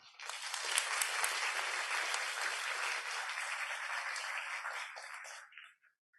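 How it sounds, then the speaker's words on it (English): Warm, dense applause from a lecture audience welcoming classicist Dr. Edith Hall, a steady wash of many clapping hands that holds for about five seconds, then tapers off into a few last claps. "let us give a big, warm round of applause"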